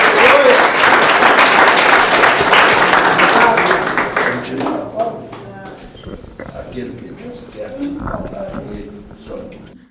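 Church congregation applauding loudly and continuously at first, a dense clapping roar that fades after a few seconds into scattered claps, voices and room noise.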